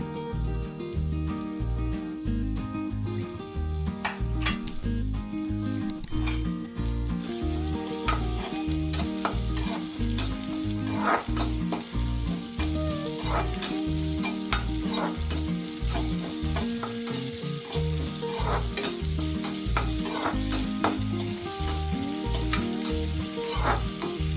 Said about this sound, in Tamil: முதல்ல பெரிய வெங்காயத்தை போட்டு வதக்கிக்கலாம்